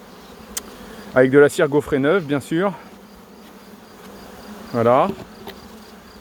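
Honeybees hum steadily around an open hive as frames of fresh embossed wax foundation go back in, a low continuous drone under someone speaking French nearby.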